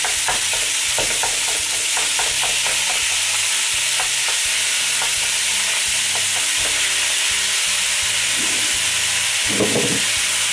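Minced meat sizzles loudly and continuously in a pan while being shaken and stirred, with scraping, clattering movements through the steady frying hiss and no talking.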